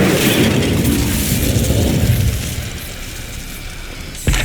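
The Incendio fire spell cast in Hogwarts Legacy, a loud whooshing burst of flame that roars then fades, ending in a sharp pop near the close.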